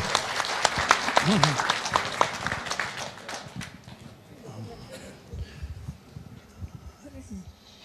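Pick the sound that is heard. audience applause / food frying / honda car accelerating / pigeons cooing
audience applause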